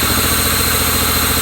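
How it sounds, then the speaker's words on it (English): An abandoned 1980s lowrider engine, run again after years of sitting, holds a loud, close, rough idle under light throttle, its steady drone carrying a faint uneven stumble from a misfiring injector. "I'll give it a little throttle."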